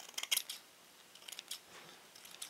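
Pair of Singer scissors cutting off a burr after sharpening on a Parkside sharpening system, several quiet crisp snips and crunching clicks in an irregular series, close and faint.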